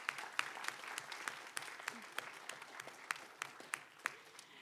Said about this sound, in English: Thank you to all of our judges, but let's give Rachel a round of applause first.